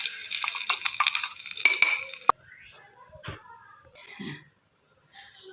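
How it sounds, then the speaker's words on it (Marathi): Hot oil crackles and sizzles briefly as a mustard seed tempering is poured over green chilli thecha, followed by a few clinks of utensils and quiet stirring. "चांगलं तडतडल्यानंतर ही फोडणी त्या चटणीवरती घालायची आहे"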